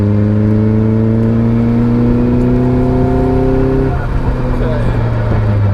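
The engine of a Caterham Seven 360R sports car pulls hard from close by, a loud, steady droning note that climbs in pitch before a quick gear change drops it and it builds again.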